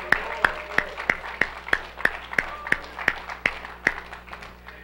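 A church congregation claps to praise the Lord, the hand claps landing in a steady, even rhythm about three per second. Quieter voices sit faintly underneath.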